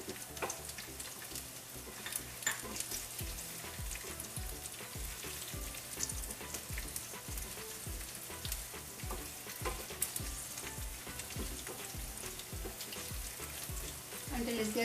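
Mustard seeds, cumin seeds and dals fry in hot oil for a South Indian tomato chutney, a steady close sizzle with scattered popping crackles throughout and no talk.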